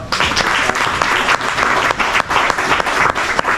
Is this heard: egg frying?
no